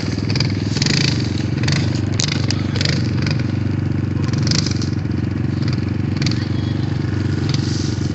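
A Honda XMOTOS dirt bike engine runs continuously while ridden, a steady buzzing drone with clattering and scraping over it, fairly loud and constant. A man calls out intermittently over the engine.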